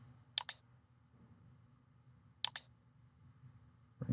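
Computer mouse clicking while working in CorelDraw: two quick double clicks about two seconds apart, crisp and close over a faint low hum, with a soft thump at the very end.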